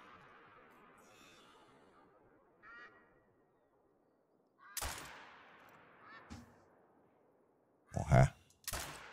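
Rifle gunshots from a high-caliber weapon in the hunting video game theHunter Call of the Wild: three sharp, loud, booming shots with decaying tails, one near the middle and two close together at the end, after a stretch of quiet talk.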